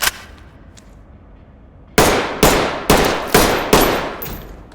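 Rifle gunfire at a video game shooting range: five loud, sharp shots in fairly quick succession after a quiet pause, each followed by a short decaying echo.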